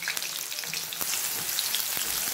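Potatoes fry in oil with turmeric and salt, giving a steady, close, loud sizzle with scattered crackles and pops throughout, no voices.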